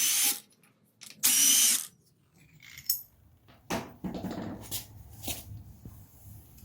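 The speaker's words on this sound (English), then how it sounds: "there's going to be three 14mm bolts on the side. Go ahead and remove those." A power tool removes 14mm bolts from an engine mount in a couple of short, loud, sharp bursts, followed by quieter clanks and handling noises close by.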